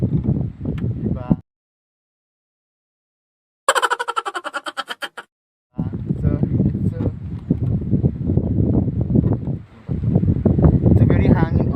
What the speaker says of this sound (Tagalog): O, ang hangin dito guys.